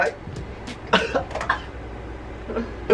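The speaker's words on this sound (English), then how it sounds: "You know when you cough, you know when you get that little cough?" A few short, close coughs and a throat clearing, separated by brief pauses.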